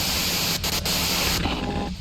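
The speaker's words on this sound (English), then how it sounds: "If you've got something really important to say, you can do it through the white noise." A device in Disco Elysium gives off steady hissing white noise, loud and continuous, with a couple of brief dips and a slight change in tone toward the end.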